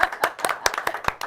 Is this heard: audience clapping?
yes